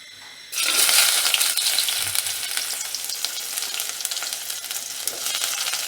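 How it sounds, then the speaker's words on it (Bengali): Onions hitting hot mustard oil in a wok burst into a loud, steady sizzle and crackle that starts abruptly after a brief quiet moment and keeps going at close range, with no voices over it. "তেলটা গরম হলে পেঁয়াজ ঢেলে দেবো।"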